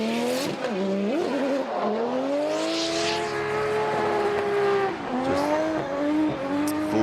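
Formula Drift Japan car drifting at Fuji Speedway under full throttle, its engine wailing loud and near with rising and falling revs over a continuous tire squeal, held across the whole run.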